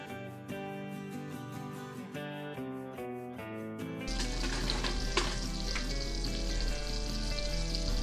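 Onion frying in butter in a heated pan: a steady, close sizzle that swells louder partway through as the onion hits the fat, with a continuous crackling hiss and no talking.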